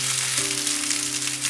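Noodles pan-frying until golden give off a steady, close sizzle with a dense crackle from start to finish, and no one speaks over it.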